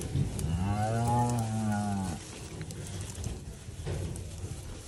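Cattle being let out onto a reserve give one long, loud, close moo lasting about two seconds, followed by quieter rustling and outdoor background.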